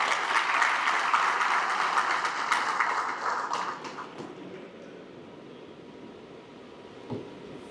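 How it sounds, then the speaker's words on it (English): Loud, dense audience applause at an award distribution ceremony in Pakistan welcomes a speaker to the stage, holding steady for about four seconds before thinning out into scattered claps and room noise. "Please give a warm round of applause as we welcome Director of Strategic Alliance, Mr. John Van Bricht"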